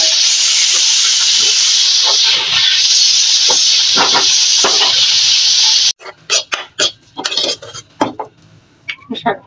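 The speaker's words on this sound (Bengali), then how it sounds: "তেলগুলো গরম হয়ে গেছে, একটা শুকনো মরিচ দিয়ে দাও" Dry chili dropped into hot oil sizzles with a loud steady hiss for several seconds, then gives way to scattered clinks and clatters of utensils in a home kitchen.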